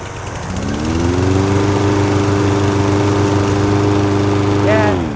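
A lawn mower with a Briggs engine and electric start cranks and catches, then runs at a steady loud drone close by for several seconds before the pitch shifts near the end.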